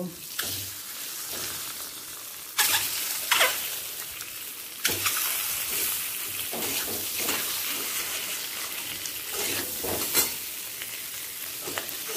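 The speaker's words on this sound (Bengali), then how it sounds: "তেলের মধ্যে হলুদটা দিয়ে ডিমগুলোকে একে একে ভেজে নেব।" Boiled eggs fry in mustard oil with turmeric, giving a steady crackling sizzle broken by sharp clinks and scrapes of stirring, close and loud, with no talk.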